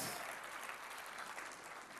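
A church congregation at a sermon breaks into sustained, even applause, a dense wash of many clapping hands heard from a distance at low level.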